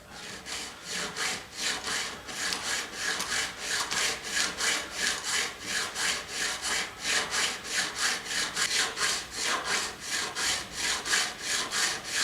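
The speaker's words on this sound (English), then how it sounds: "I'm just turning the file over gradually, just to bring the top to a round peak on both sides." Hand file shaping a guitar fret while rebuilding a Roscelli Cavalier Rhythm King, with steady rasping strokes repeating evenly for the whole stretch, close and clear.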